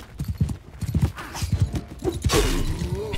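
Galloping horse hooves in Mount & Blade 2 Bannerlord, rapid rhythmic clip-clop beats close by and fairly loud, with a brief whinny-like cry near the end and no talking.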